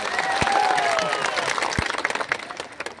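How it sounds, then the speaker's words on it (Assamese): Crowd at an election campaign rally clapping and applauding, a dense burst of hand claps that thins into scattered, uneven claps toward the end, with faint voices mixed in. "ভাল কৰে হাত চাপৰি মাত"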